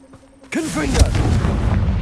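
A Confringo blasting spell explodes in Hogwarts Legacy, a sudden loud boom after a quiet moment, followed by a rumbling fiery roar and crackling debris.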